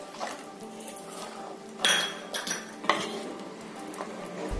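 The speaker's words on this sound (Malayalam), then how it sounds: "നന്നായിട്ട് ഇളക്കി കൊടുക്കുക." Spoon clinking and scraping against a metal pot while sambar is stirred, a few distinct clanks amid soft steady stirring noise, fairly close.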